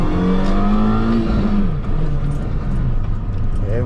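Mini Cooper S accelerating away, a loud close engine note rising in pitch through a gear, then dropping and settling into a rougher rumble as it pulls off, with faint rattles.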